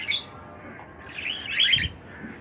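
A breeding pair of lutino cockatiels gives short, bright chirps and calls, one early and a louder cluster later, heard near against a quiet, faintly noisy room with no speech.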